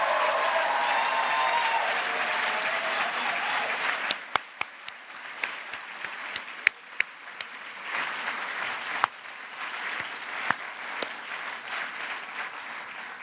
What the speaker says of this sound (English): I think they deserve applause for many things